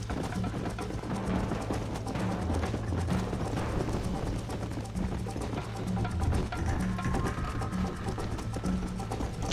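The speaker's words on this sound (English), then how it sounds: "Come on, horse, don't stop." Continuous galloping hoofbeats from a horse in the video game Red Dead Redemption, a fast, even clip-clop heard up close over a dense backdrop of game music and ambience.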